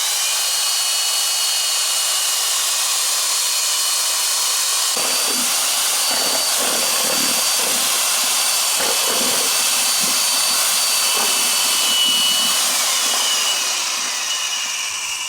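An electric drill whirs steadily as it stirs sulfur melting in a pot. It is close and continuous, with irregular knocks and scraping from about five seconds on as the bit churns the mixture.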